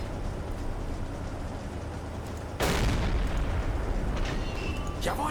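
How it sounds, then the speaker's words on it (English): A sudden loud boom from an explosion aboard a ship in the submarine game Silent Hunter 3 cuts through steady low rumbling, followed by crackling debris and a few sharper bursts. "Another explosion on board."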